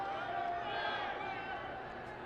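Broad crowd murmur and jeering from spectators at Audi Field during a DC Power FC soccer match, a steady, moderately loud wash of voices heard from a distance with no clear individual words.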